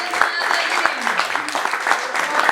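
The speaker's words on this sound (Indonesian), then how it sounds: "Tepuk tangan lagi dong." Audience applause at a press conference, a brief burst of scattered clapping at steady loudness, with voices talking over it.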